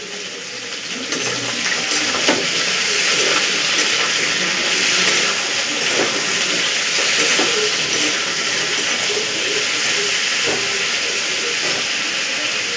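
Pointed gourd (potol) frying in oil with a little salt and turmeric: a steady, close hiss and sizzle that holds for several seconds after a quieter start, with no speech over it.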